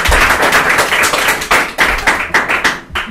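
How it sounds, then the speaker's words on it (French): An audience at a live French talk claps for a question, a dense burst of applause that thins into scattered individual claps toward the end, close and loud. "On applaudit la question."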